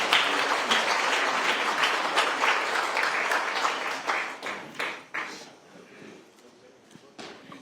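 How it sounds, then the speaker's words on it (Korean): Audience applause at a National Assembly AI strategy forum welcomes SK Group chairman Chey Tae-won: sustained, dense clapping from a large crowd that thins into scattered claps toward the end. "여러분 다시 한번 최태원 회장님을 큰 박수로 맞이해 주시기 바랍니다"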